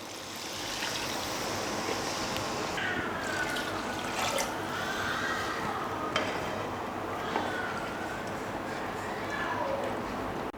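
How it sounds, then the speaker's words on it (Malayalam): Water is poured from a bowl onto rice in a kitchen, a steady splashing stream running for several seconds, close and fairly loud, with a voice faintly audible underneath. "അപ്പം ആ ബൗളിൽ 2 ബൗള് വെള്ളം ഒഴിച്ചു കൊടുക്കണം"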